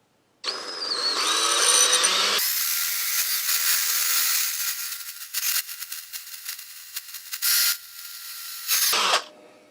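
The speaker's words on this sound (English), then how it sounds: "I'm gonna drill it at a slight angle" A power drill bores an angled hole during fabrication work on a WR250E motorcycle: one long whirring run, then several short bursts with pauses between them.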